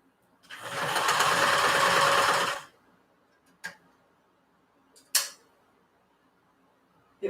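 Domestic sewing machine stitching a canvas tote bag in one steady burst of about two seconds, followed by a few short clicks and knocks from the machine as it pauses.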